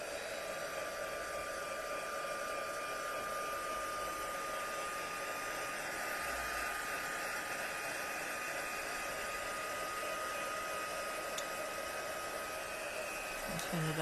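A heat tool blows steadily and loudly at close range while drying a handmade paper card, a continuous whooshing airflow with a faint whine that lasts the whole time.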